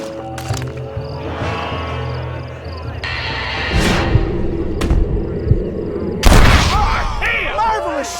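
Gunshots in the Western video game Red Dead Redemption: a few scattered loud cracks and booms with a heavy blast near the end, mixed over game music and background noise.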